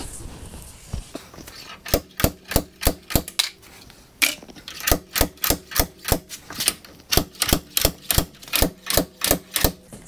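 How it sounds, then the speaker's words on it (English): A slide hammer pulling a stuck brake rotor: a rapid series of sharp metallic impacts, steady and repetitive, with a brief pause before a longer run of evenly spaced hammering blows up close. "Little slide hammer."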